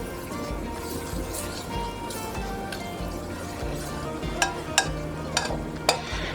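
A wooden spoon or high-heat spatula stirs a sandy flour roux for gravy, giving an even close sizzle with soft scraping. Several sharp taps against the pan come near the end.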